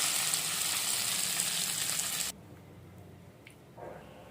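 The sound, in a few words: tempering sizzling into drumstick leaf chutney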